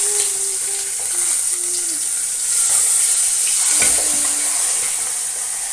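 Masala-coated chicken roast sizzles steadily in a hot pan as pieces are turned over, a bright continuous hiss with brief scraping stirs, close and loud.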